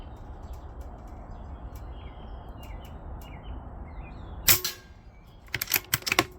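A Barra 250Z .25 caliber air rifle fires once with a sharp, close crack, followed by a few quick mechanical clicks, while birds chirp faintly outdoors at a 25-yard range.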